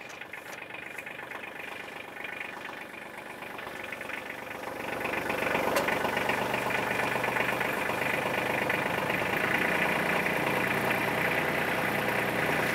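A tractor engine idles steadily on a farm in traditional New Mexico, a continuous low rumble that grows louder and fuller about halfway through, with no talking.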